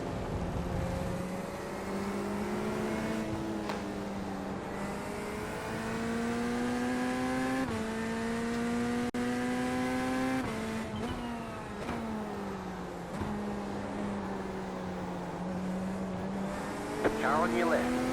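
A Corvette race car in iRacing at Spa during an IMSA race, its engine droning steadily and shifting pitch through gear changes, with other cars running nearby and a voice speaking over the engine.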